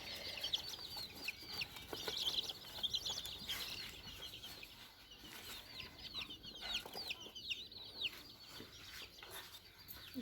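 Black Australorp chickens on a farm near Pune cluck and cheep in a steady, busy chorus at moderate distance, with many short overlapping calls running throughout and no speech.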